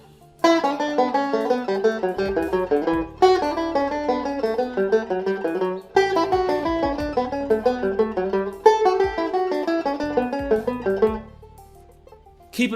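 Close, bright banjo notes run a reversed scale exercise in thirds, four even phrases of quick single-string picking with short breaks between them.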